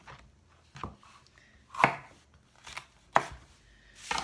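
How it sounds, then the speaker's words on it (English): A knife cuts a large emptied green pepper into slices on a board, giving four or five separate sharp chops spaced irregularly, close and fairly loud, with no talking. "So what I'll do is I'll cut it up a little bit into some slices."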